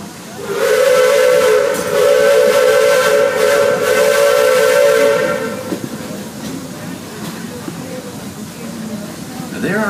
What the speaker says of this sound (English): Some who say that this steam train is a little old-fashioned, but for me, it's the only way to travel.